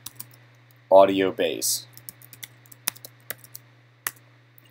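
Sharp, sparse keystrokes on a computer keyboard, entered into Maya's MEL command line, click out one by one after a brief burst of speech, close and moderately loud against a quiet, humming room.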